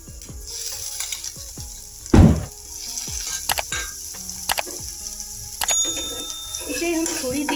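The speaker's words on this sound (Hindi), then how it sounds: "इसे हम थोड़ी देर भूनेंगे।" Egg bhurji with chopped tomatoes frying in a pan gives a steady low sizzle, broken by scraping stirs and a few clinks, with a louder burst of spatter near the start.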